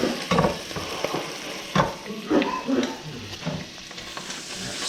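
Butter melts over chorizo in a hot pan, giving a steady close sizzle broken by scraping stirs and soft knocks from the utensil.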